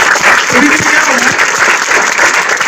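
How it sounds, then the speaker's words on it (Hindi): Loud, dense applause from a large audience at a Kargil Diwas event fills the whole moment with steady clapping. "और एक बार जोरदार तालियां राउत सर के लिए."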